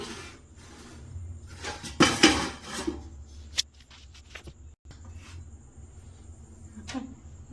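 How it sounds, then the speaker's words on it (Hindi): Dishes, pots and utensils clink and clatter in a home kitchen as they are washed, with a few louder scrapes and knocks among softer intermittent rattling, close by and without talk. "अब मैं बर्तन धो लेती हूँ और किचन साफ कर लेती हूँ"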